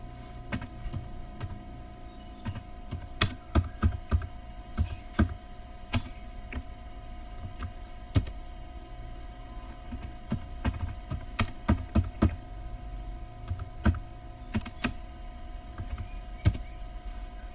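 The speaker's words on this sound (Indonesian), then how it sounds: "untuk memulai ketikan perintah berikut di terminal" Someone types commands on a computer keyboard in a Linux Ubuntu server terminal, sharp key clicks arriving in irregular bursts and short runs over a constant low electrical hum.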